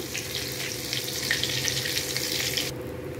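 Cumin seeds frying in hot oil as a tempering, a steady close hiss and crackle that holds evenly before cutting off abruptly near the end.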